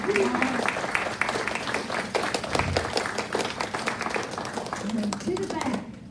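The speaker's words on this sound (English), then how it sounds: "Let's all give a big round of applause." Applause and clapping from an audience at a paramedic-led EMS preparedness talk, a dense spatter of hands running several seconds, mixed with voices.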